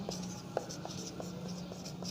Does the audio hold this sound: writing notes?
yes